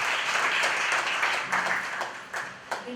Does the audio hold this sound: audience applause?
yes